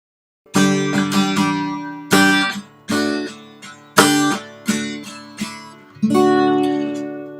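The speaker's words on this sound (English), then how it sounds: "It's an Aria guitar." An Aria acoustic-style guitar, slightly out of tune with old strings, strummed in several separate ringing chords, each attack bright and close, left to decay before the next, with no talking.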